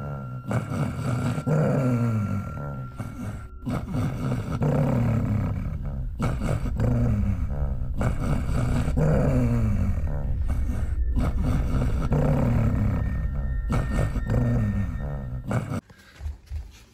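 Continuous harsh growling and snarling of a dog attacking in the Undertale video game, loud and close, pulsing in repeated surges for most of the stretch before cutting off near the end.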